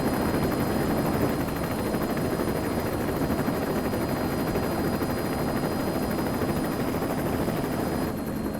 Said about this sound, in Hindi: हेलीकॉप्टर आ गया